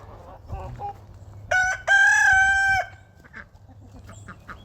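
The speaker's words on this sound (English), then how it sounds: "our grouchy rooster. This guy, we call him Mr. Rooster, but he's kind of a grump." A grumpy farm rooster crows loudly twice in a row close by, with softer clucks and low farmyard noise before and after.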